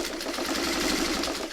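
A vintage 1950s sewing machine stitches steadily, a close, fast, even mechanical whirring with a faint rhythmic clatter and no talk.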